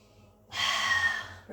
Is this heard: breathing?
yes